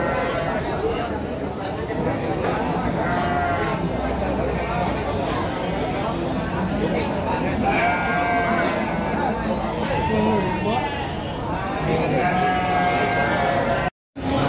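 Sheep bleat repeatedly at a livestock market in Tanjungsari, Sumedang, several animals calling over a constant crowd murmur, with someone talking throughout.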